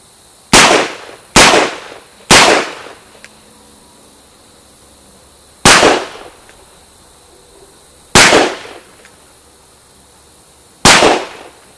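Six sharp gunshots from a Rossi revolver crack out at uneven intervals, each a loud, close report with a short decaying tail, separated by quiet pauses.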